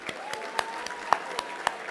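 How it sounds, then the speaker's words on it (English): A gala audience applauds, sparse but distinct claps ringing out from a scattered crowd, fairly quiet and with no voices over them. "Let's give them a big round of applause."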